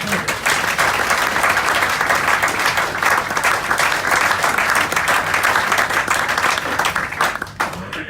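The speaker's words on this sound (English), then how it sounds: "Let's give him another round of applause." Ship passengers applaud the captain and crew after an Antarctic voyage, a loud, dense round of clapping that runs steadily and tapers slightly near the end.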